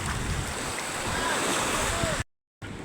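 Sea waves wash steadily with strong wind buffeting the microphone, a continuous broadband roar that drops out briefly near the end.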